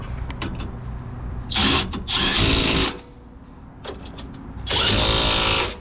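An impact tool tightens bolts during a Nissan Xterra differential replacement, several loud whirring bursts, some brief and some lasting about a second, separated by quieter pauses close up.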